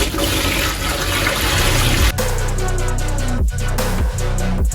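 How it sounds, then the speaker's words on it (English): Hot water gushes steadily from a tap, loud and close, the flow shifting in pitch partway through with a few brief dips. "Next, we're going in with our hot water."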